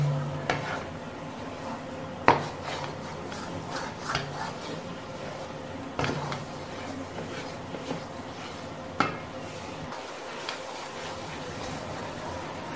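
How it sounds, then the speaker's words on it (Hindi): Besan halwa is roasted and stirred in a pan, a steady low sizzle under scraping and occasional sharp clanks of a spoon against the metal, close and moderately loud with no talking. "मज़ीद हम 1 मिनट तक सिर्फ इसे भूनेंगे।"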